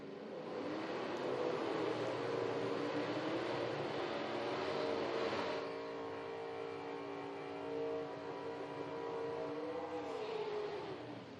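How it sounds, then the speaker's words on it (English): A Ford Mustang Cobra Jet drag car doing a burnout at an IHRA drag race: a long, steady, distant engine roar with a slight swell midway, faint and with no voices. "One of the best burnouts we've seen all day over there in the left lane again."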